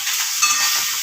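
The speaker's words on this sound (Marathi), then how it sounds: "आणि इकडे लसूण करते मम्मी फ्राय" Garlic and green chillies sizzle in oil in a home kitchen pan, a steady bright frying hiss with crackling spatter that holds evenly throughout, close and fairly loud, with no voices.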